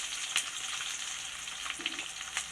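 Two thinly sliced medium onions sauté in hot oil for chilli garlic rice, giving a steady close-up sizzle and crackle with a few soft stirring scrapes and no voices.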